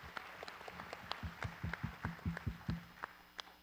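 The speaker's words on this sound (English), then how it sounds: "So give her a round of applause." An audience claps at a talk, a sparse, moderately distant round of applause with irregular individual claps that thin out toward the end.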